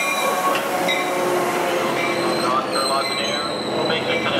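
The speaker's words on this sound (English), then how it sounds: "7:15 northbound train to Fullerton Station. Make way." A northbound passenger train bound for Fullerton Station rolls by at close range, steady loud rumble of railcars with wheel squeal and clatter throughout, a faint voice underneath.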